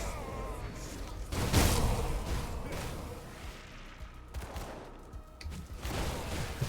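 Pistol fire from the dual-wielding enemy Bolvar in the action game Grim Dawn, heard as a loud burst of shots followed by scattered bangs and impacts over busy combat noise.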